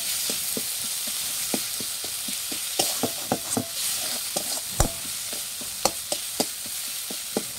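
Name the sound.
frying spice paste with turmeric for egg curry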